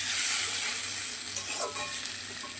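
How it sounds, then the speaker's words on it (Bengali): Spice masala being sautéed with fried potatoes in a pan for a katla fish curry, with a steady soft sizzle and occasional stirring scrapes, close and continuous with no talking. "ভালোভাবে কষানো হচ্ছে।"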